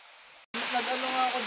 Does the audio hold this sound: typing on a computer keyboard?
no